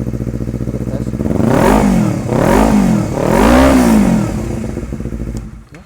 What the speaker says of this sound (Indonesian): Suaranya halus banget, bener-bener halus dan cocok sama kemauan gue di motor ini.